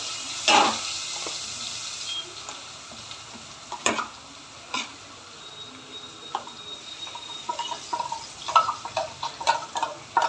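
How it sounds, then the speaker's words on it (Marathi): Finely ground spice masala frying in oil on a low flame while it is stirred, a steady soft sizzle broken by scattered ticks and scraping taps, close and moderate in volume with no talking. "त्यामध्ये आपण आता बारीक केलेला हा मसाला आहे तो आपण त्यामध्ये टाकून घेऊया"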